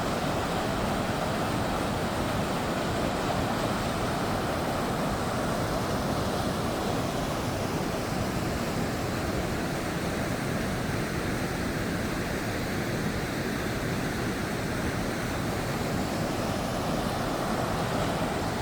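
Niagara Falls pours in a steady, dense roar of rushing water, close and loud, with no break over the whole stretch and no voices on top.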